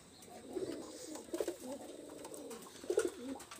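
Pakistani high flyer pigeons cooing, soft low throaty coos in several bursts over a faint background hiss, fairly quiet and close, with no talking.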